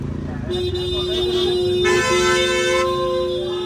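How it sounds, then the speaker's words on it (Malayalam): Vehicle horns honk on a busy North Indian road near Agra, a sustained nearby horn tone layered with other toots over steady traffic rumble, with a voice talking underneath. "ഹോണടിയാണ് ഈ നമ്മൾ ഈ നോർത്ത് ഇന്ത്യ ഭാഗത്ത് വന്നത് ഏറ്റവും കൂടുതൽ"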